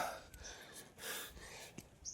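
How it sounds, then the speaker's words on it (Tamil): Heavy, gasping breaths from someone who has just climbed a tamarind tree, quiet and close, with audible puffs and snorts in an irregular rhythm and faint background noise. "என் மரம் ஏறிட்டா மூச்சு வாங்குது"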